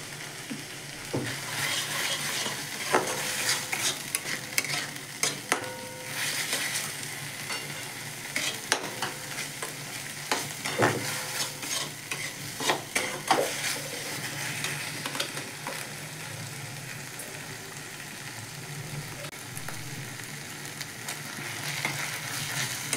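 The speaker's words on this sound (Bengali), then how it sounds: "এবার খুব একদম ধিমে আছে এটাকে ভালোভাবে কষাতে হবে" Kakrol curry being stirred and sautéed in a pan over a low gas flame, a steady soft sizzle broken by repeated scraping spoon strokes throughout, with no talking.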